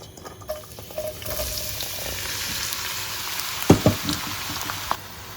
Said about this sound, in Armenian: Թողնում ենք բուսայուղը լավ տաքանա, նոր հետո միայն ավելացնում սոխը